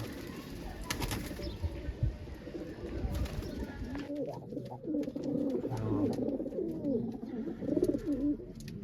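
Pigeons coo repeatedly in low, rolling calls at close range, with a few wing flaps and faint voices in the background.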